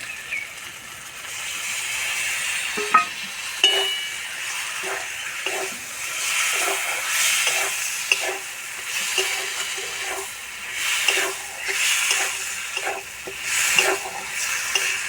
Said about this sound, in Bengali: এবার আমি অল্প একটু জল দেবো এবার দেবো টমেটো পেস্ট